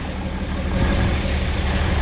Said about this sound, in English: Get that tractor started up.